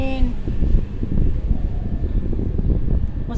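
A strong, hot wind blows outdoors on a gusty day in Qatar, giving a steady, fairly loud broadband rush with low rumbling buffets, continuous throughout.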